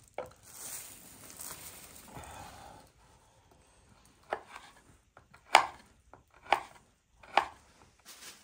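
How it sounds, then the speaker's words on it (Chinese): A knife cuts sausage, likely on a board, on a cold-weather cycling trip, sheltered in an abandoned garage. Rustling and handling come first, then four or five sharp, separate chops at an uneven pace, close but fairly quiet. "把这个香肠切了吃了吧"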